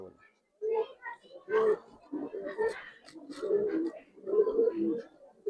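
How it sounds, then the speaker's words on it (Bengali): Soft, repeated cooing of Pakistani golden pigeons, low and throaty, close by and blending with murmuring voices in the background. "পাকিস্তানি গোল্ডেন কবুতর যেটা"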